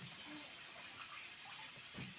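Tap water runs faintly and steadily while potatoes are washed at a kitchen sink, a soft continuous hiss with no talking.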